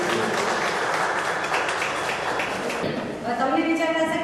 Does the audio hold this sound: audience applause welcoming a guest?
yes